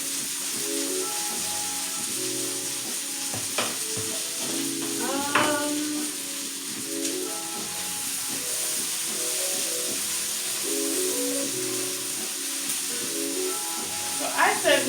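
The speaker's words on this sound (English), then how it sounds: "I'm going to put the seasoning in and let it saute for like 10 minutes." Spices such as cumin, chili powder and turmeric sauté in a pan on the stove, giving a soft continuous sizzle and hiss with occasional clinks of a utensil and faint background murmur.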